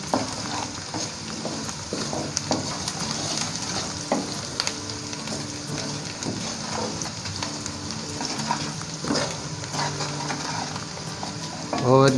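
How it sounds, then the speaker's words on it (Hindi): Spices and chicken frying and being stirred in a pan for chicken lapeta, a steady close sizzle with repeated scraping and clinking of the spoon against the pan throughout. "इन मसालों को हम अच्छी तरह पकाएंगे इसके साथ"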